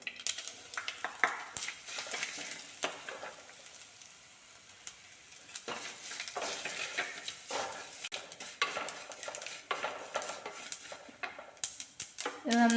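Crushed chilli and garlic fry in a pan with a soft steady sizzle, punctuated by scattered scrapes and taps of a spoon stirring, close and quiet.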